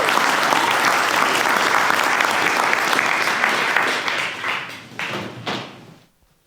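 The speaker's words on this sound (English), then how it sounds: "Please, a round of applause for Jürgen Dronen" Loud, dense audience applause at an offshore wind startup showcase greeting the next speaker, a sustained wash of clapping that thins into a few final claps and dies out near the end.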